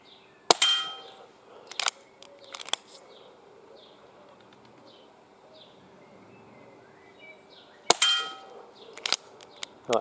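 A Reximex Mito .22 air rifle fires pellets at a 10-metre target, giving a few sharp metallic cracks and clangs spaced seconds apart, with a pair of shots close together near the end and quiet background between them.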